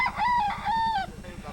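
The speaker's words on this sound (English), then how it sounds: "This is where he helped his father condition their many roosters to become fighting cocks." A fighting cock in a backyard crows loudly and close by, one drawn-out cock-a-doodle-doo with rising and held notes, followed by softer clucking.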